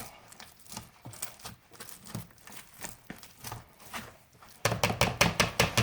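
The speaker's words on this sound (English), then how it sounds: "See that? I'm just mashing it together." Boiled potatoes for grilled mashed potatoes are mashed by hand in a bowl, giving soft rhythmic squishing thumps close by that grow quicker and louder toward the end.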